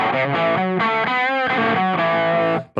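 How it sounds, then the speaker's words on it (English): Electric guitar played through a Tube Screamer distortion on a NUX Mighty Plug Pro with a Mr. Z amp model, giving loud, sustained, saturated chords and notes in short phrases, close and alone before a sudden cutoff. "I have a distortion on this one. I just have a tube screamer."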